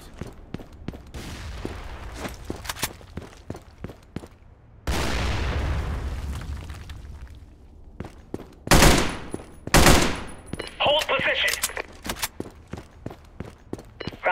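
In the shooter game Sudden Attack 2, a fast run of gunshots gives way to a heavy grenade blast with a long rumbling tail, followed by more loud bursts of fire and scattered shots.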